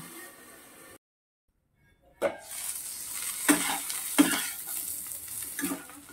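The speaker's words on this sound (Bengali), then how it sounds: "এখানে আলু ভাজাটা হয়ে গেছে" After a brief silence, potatoes sizzle steadily in a pan, broken by a few louder scraping stirs.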